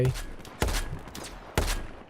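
Gunfire in the video game Battlefield 4: two sharp, loud shots about a second apart stand out over a rough, crackling battle backdrop with fainter pops between them.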